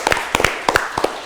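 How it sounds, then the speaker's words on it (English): A small studio audience on a Ramadan quiz show claps for a contestant, a handful of sharp, close hand claps in an uneven rhythm, brief and alone. "Give a clap to Abdul Rafi as well,"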